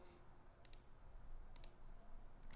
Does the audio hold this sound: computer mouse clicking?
yes